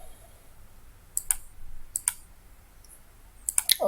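Sharp mouse clicks on a login button, arriving in small clusters of two or three against a quiet room hush, close and crisp with no talking.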